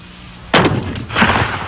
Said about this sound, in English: the deafening sound of cannons echoed across Britain